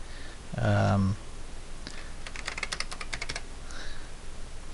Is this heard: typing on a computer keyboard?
yes